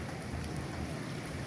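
A steady hiss of light rain falling on surfaces, dense and even throughout, with no voices.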